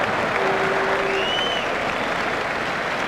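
A cricket crowd applauds a Test match batsman reaching his fifty, with continuous broad clapping at a distance and a faint whistle or tone briefly riding above it.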